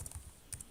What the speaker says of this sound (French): Donc je vais taper le programme